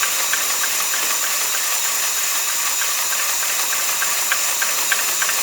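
Land Rover engine barely running, heard as a steady hissing, rough drone close by with faint irregular ticks and knocks throughout, no voices.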